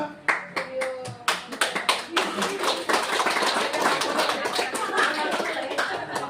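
Hands clap close by, first in a few separate claps and then in quick, sustained clapping that grows denser, with a voice faintly audible at times.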